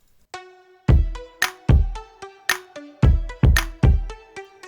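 Dry drums with no Little Radiator saturation, playing in a song: a steady run of punchy kicks and snappy hits alongside sustained tonal chords, loud and upfront, with no voice.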